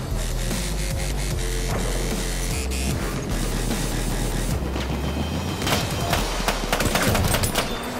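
Sharp gunshots crack repeatedly over a droning Battlefield 1 background, with a denser burst of shots near the end; no one speaks.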